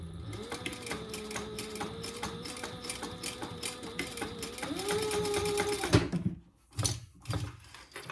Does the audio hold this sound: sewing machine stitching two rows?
yes